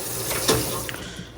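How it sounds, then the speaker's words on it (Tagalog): Water pours briefly into a cooking pot, a short splashing trickle heard up close for about a second. "Lagyan natin konti ng tubig."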